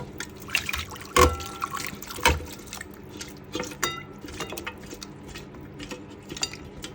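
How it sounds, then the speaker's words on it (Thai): Cooked, stewed duck and its broth are poured from a pot into a bowl, giving soft wet splashes and trickles punctuated by a few light clinks of dish and utensil at close range. "เทใส่ถ้วยเลย"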